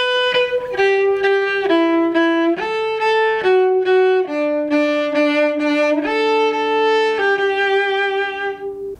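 A cello plays a melody in tempo, a run of clear sustained bowed notes that step from one pitch to the next, loud, close and alone.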